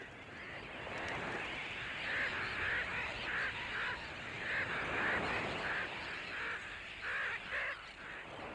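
Dense chorus of seabirds calling at a nesting colony on Raine Island at the northern Great Barrier Reef, overlapping honking and croaking cries, steady and close with no talk.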